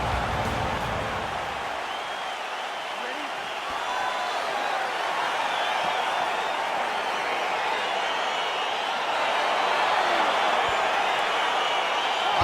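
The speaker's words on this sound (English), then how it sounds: "Crowd getting excited as this fight gets underway" A UFC 4 video game arena crowd gives off a steady, broad roar of cheering as a fight begins, swelling slightly louder toward the end.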